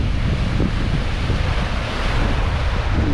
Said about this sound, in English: Look at that. These are 5 foot, 6 foot waves.